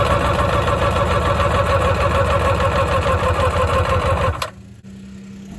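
A 1996 Sea-Doo GTS jet ski engine, revived after sitting for over ten years, runs with a steady, loud buzzing drone. It cuts off abruptly near the end, leaving near silence, and no one speaks.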